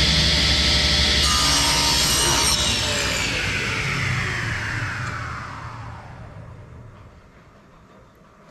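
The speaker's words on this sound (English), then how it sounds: "Just going to rip this piece right here." A table saw rips a piece of wood along the fence: a loud, close blade whine and cutting roar that holds steady, then spins down in a falling hum after the cut, with no talk.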